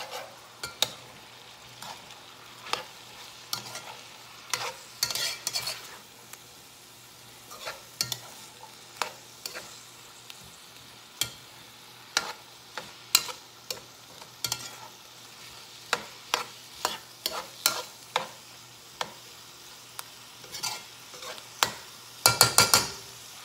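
Chicken and rice for arroz con pollo cooking in a pot on medium heat, a steady low sizzle broken by frequent sharp scrapes and clinks of a utensil against the pot, with a cluster of louder knocks at the end; no talking.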